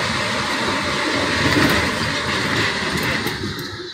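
A Paris metro train running through an underground tunnel gives a steady, loud rumble and roar with faint high squeals near the end, continuous and without talk.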